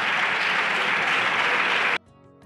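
Parliamentary deputies applauding in the chamber: dense, loud clapping from many hands that stops abruptly after about two seconds, leaving quiet room tone.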